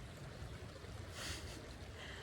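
A river in wild British countryside gives a steady, broad rush of flowing water, with a brief brighter swell of splashing near the middle; no one speaks.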